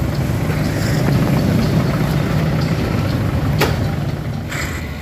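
An Isuzu Trooper engine idles steadily and close by, with a low continuous rumble and a brief sharper noise near the middle. The vehicle has a transmission controller fault that leaves it with no reverse or drive engagement.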